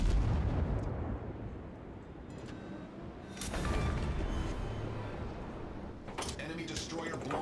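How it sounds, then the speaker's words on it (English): A destroyer blows up during a naval battle in World of Warships, heard as a loud, continuous rumbling boom with layered blasts and crackling bursts over a few seconds, swelling midway and again near the end. "destroyer blown up"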